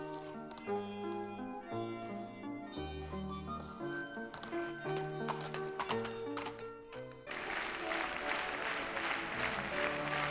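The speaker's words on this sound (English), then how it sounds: "the roar of applause that greeted Jean-Paul Gaultier as he took his bow" Music plays for several seconds at a runway fashion show. A burst of broad, dense applause then takes over as Jean-Paul Gaultier comes out for his bow, rising sharply and continuing to the end.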